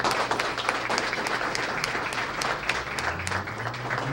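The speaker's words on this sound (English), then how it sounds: "So let's give them a great round of applause." A room full of people at a student of the month ceremony gives a steady round of applause for scholarship donors, dense overlapping clapping at even loudness throughout, with a few sharper claps poking through.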